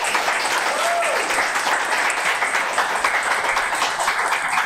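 Sustained applause from an audience at a poetry book launch for two books, dense steady clapping throughout with no pause, filling the room evenly.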